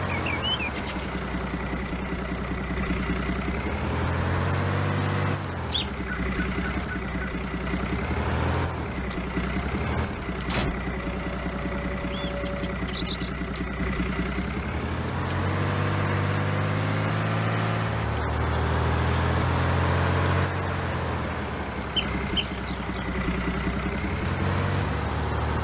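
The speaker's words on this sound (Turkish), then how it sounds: "Bir deneyelim bakalım bu traktörle şeyi yapabilecek miyim?" Tractor engine in Farming Simulator 19 runs steadily for the whole stretch, a loud, continuous low droning hum with occasional brief higher clicks and tones from the game.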